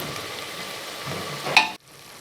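Beef fries in coconut oil while being stirred in a pan for a home-style Chathakoottu beef fry. A soft, steady sizzle builds to a brief louder scrape of stirring, then cuts off abruptly into near silence.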